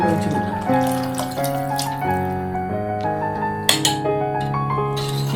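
Soaked kudampuli tamarind water is poured into a fish curry in a steady, continuous stream, the liquid ringing with shifting tones and a few light clinks, close and alone.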